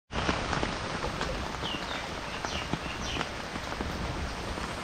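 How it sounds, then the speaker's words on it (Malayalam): Steady rain falling outdoors, a dense continuous hiss with scattered heavier drops tapping on surfaces, moderately loud and unbroken throughout. "ഇപ്പോഴും മഴ പെയ്തുകൊണ്ടിരിക്കുക"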